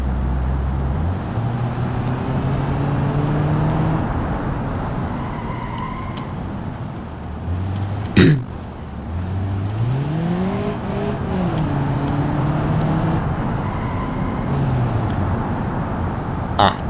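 Engine of a 2.0-liter 16-valve automatic car in BeamNG.drive, revving up and shifting through gears with steady road noise, a sharp click partway through, then the pitch climbing again, loud and continuous.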